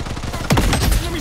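A short, loud burst of rapid gunfire from the shooter game Blood Strike, dense and close, with a sharp attack midway through.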